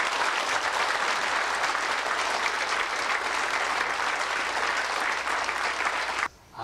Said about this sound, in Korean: 우리 박수를 영광드립니다.